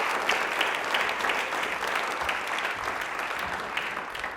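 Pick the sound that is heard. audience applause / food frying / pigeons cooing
audience applause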